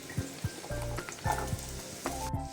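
Small onions sizzle steadily in oil as they fry golden in a pan for mutton chukka, with repeated scraping and stirring knocks at an uneven rhythm, close and moderately loud.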